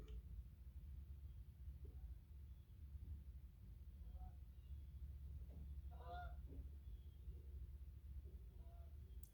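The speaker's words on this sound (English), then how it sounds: "I think that Canadian goose just went right over my driveway." A Canada goose flying over a residential driveway gives a few faint, distant honks midway through, under a steady low outdoor hum.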